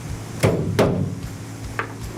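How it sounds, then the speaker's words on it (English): A hammer strikes loose gutter spikes on a house roofline, several sharp metallic-wooden knocks with uneven pauses between them, loud and close over steady outdoor background noise. "make sure you bring a hammer. That way you can tighten up any of these loose gutter spikes"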